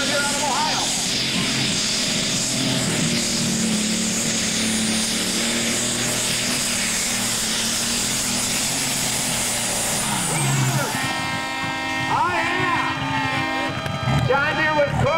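A John Deere pulling tractor roars at full power down the track during a tractor pull run, a loud sustained engine drone that drops off near the end, with an announcer talking over it.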